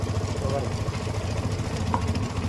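A Yamaha FZ motorcycle engine runs at a steady low idle after starting, its even throbbing rumble close by under a voice.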